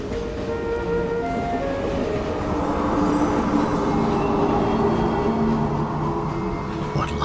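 A train from the video game Professor Layton: Diabolical Box, the Momentary Express, rumbles along with a steady, dense roar and faint tonal whines, continuous and unbroken for several seconds, with no voices over it.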